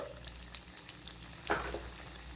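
Mustard seeds and chana dal tempering crackle and sizzle in hot oil in a home kitchen, a steady low fry with small pops and one brief louder burst of spattering midway, close and alone.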